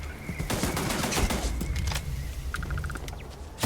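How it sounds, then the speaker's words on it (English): Turret gunfire in the space game Starfield, a dense rapid fusillade of close shots rattling continuously over a low rumble, with a brief electronic beeping near the end. "it's a turret that's shooting me now"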